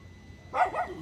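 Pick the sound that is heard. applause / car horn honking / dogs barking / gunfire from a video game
dogs barking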